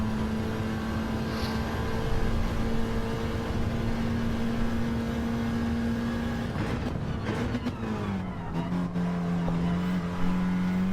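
Race car engine in a racing game on the Nations Dragon Trail circuit: a steady, loud droning whine held at constant pitch, then a brief shift and dip as the revs change, with no talking.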